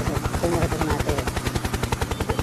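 A toy helicopter flies close by with a rapid, steady, rhythmic chopping whir that pulses evenly throughout.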